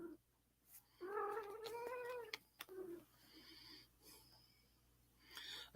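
A cat gives a drawn-out, wavering meow at close range, followed by a shorter second call and some faint rustling, with a sharp noise at the very end.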